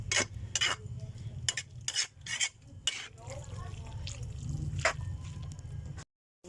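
Pancit cooking in a pan with onions, heard as a close hiss under repeated sharp utensil scrapes and clanks, with a brief silence near the end.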